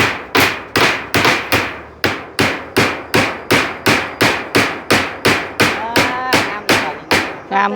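A hammer drives nails into a hut roof under construction, striking about twenty sharp, loud blows at a steady, even rhythm with brief pauses. A voice speaks briefly near the end.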